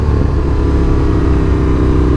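Indian FTR 1200 R motorcycle engine on a first ride, a loud, close, steady rumbling drone with wind roar, no talk.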